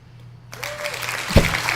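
A short burst of applause sound effect breaks in after a near-silent start and swells into a dense, bright clatter of clapping with one sharp peak near the end.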